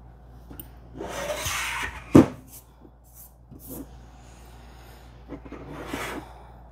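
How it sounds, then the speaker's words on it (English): An M3 screw being driven into a plate holder for a Prusa MMU3 build on an MK4 3D printer, heard as soft intermittent rubbing and scraping with one sharp knock near the middle, close and quiet. "Tighten it up."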